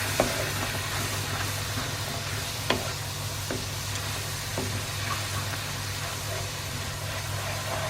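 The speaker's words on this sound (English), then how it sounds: "So let me just give that a stir." Lentils sizzle in a pan under a steady hiss, with a few soft stirring scrapes and one sharp knock. No one speaks.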